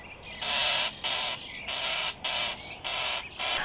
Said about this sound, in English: I'm pretty sure that bird just came out of the roof and she's hollering at me.